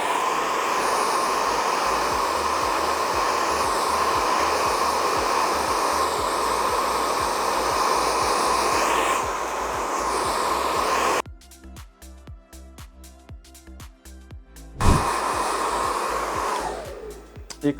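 A GHD hair dryer blows hair smooth with a loud, steady whooshing roar, drops out abruptly into quieter handling noises, then kicks back on with a thump and runs on.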